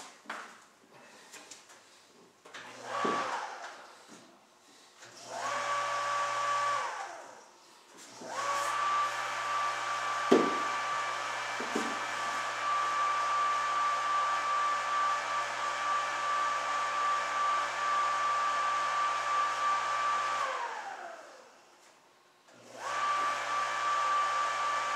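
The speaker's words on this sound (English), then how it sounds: "then I'm going to start the recirculation with this pump until it gets clear" Small electric pump recirculating wort through the grain bed in an all-grain home brewing setup, a steady whine with a tonal hum, stopping and restarting a few times with short gaps, close and alone.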